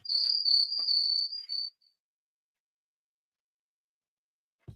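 Crickets chirp in a steady, continuous high trill for under two seconds, fairly clear and alone, then cut off into silence.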